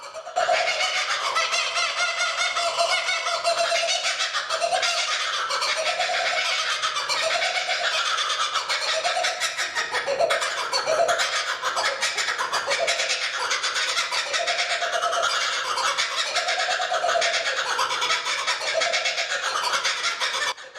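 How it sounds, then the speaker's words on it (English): A Laughing Kookaburra gives its long, raucous laughing call, with loud, continuous rising and falling cackling phrases repeating for about twenty seconds without pause. "The Laughing Kookaburra's call is made through a complex sound production system, by forcing air from the lungs into the bronchial tubes."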